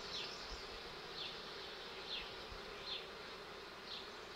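Honeybees buzz steadily at an opened hive during an inspection of nectar-filled frames, a close, continuous hum with small swells every second or so.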